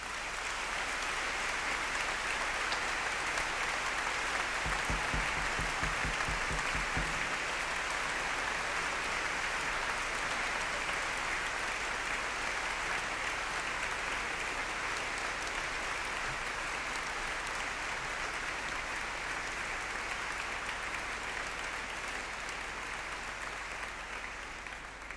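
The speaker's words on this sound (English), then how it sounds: "she really deserves the biggest applause that you can give her" A large audience at a professional standard dance competition in Blackpool gives a presenter sustained, dense applause, loud and steady for about twenty-five seconds with no pause.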